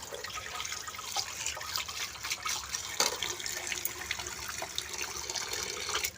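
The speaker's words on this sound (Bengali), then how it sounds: "জল ভরা হয়ে গেল" Water runs from a household tap while a container fills, a continuous close splashing rush with small fluctuations and a brief louder gush partway through, no talking.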